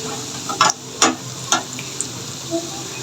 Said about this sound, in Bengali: এখন দুপুরের জন্য এই যে বড়া করতেছি